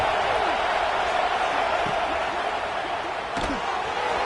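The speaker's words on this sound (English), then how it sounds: "And here comes the noise. This crowd is trying to inspire this defense to make a big red zone stop." Stadium crowd in a college football video game, Florida versus Alabama, roars as a steady loud wash of cheering noise throughout, with a brief sharper burst near the end.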